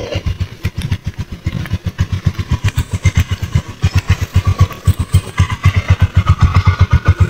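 A motorcycle engine idles loudly and close on a rough, slippery dirt track in Mindoro, with a fast, even pulsing throb that runs steadily with no one speaking.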